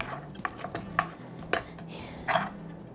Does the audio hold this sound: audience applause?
no